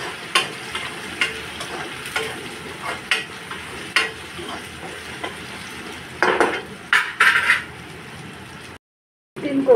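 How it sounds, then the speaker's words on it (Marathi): Finely chopped tomato and turmeric stirred into a hot frying pan, with a constant sizzle and repeated close scrapes and clinks of a spoon against the pan. A louder burst of clatter comes near the end, then a short silence. "आता मी बारीक चिरलेला टोमॅटो टाकते, आता मी हळद टाकते"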